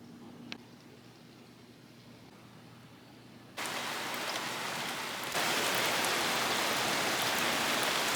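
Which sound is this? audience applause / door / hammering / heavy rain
heavy rain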